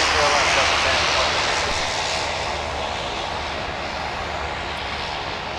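A Delta Boeing 757 jet roars on its takeoff run from runway 30 left at a wintry Minneapolis–Saint Paul airport, a loud broadband engine rush that fades slightly as it continues, with talk mixed underneath.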